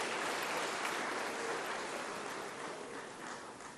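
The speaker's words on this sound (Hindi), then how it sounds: "ताली बजा के विनोद जी का स्वागत कीजिए" An audience applauds at an employment day event in a large hall, a steady, dense wash of clapping that stays even and slowly fades toward the end.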